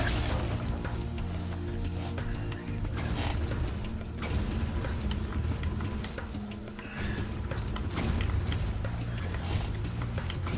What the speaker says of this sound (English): The switch to turn off the gear grinder factory is in that room, but, it's awfully noisy in there.